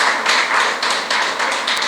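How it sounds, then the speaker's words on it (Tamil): Audience applause at an Ashok Leyland truck owners' meeting in Namakkal: a brief, steady patter of many hands clapping together, close and fairly loud, with no voices over it. "ஓகே கைத்தட்டலாம் இதுக்கு கண்டிப்பாக"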